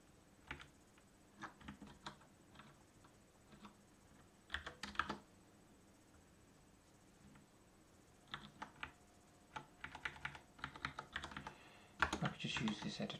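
Irregular bursts of typing on a computer keyboard while working in a text editor: clusters of quick, close clicks separated by quiet pauses, growing denser toward the end.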